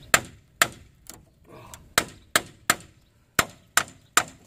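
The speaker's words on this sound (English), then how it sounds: "So let me get a breaker bar and a hammer here." Hammer blows on a rusted, stuck front brake caliper of a 2010 Ford F-150, ringing out as about ten sharp, loud metallic strikes at an irregular pace with quiet gaps between them.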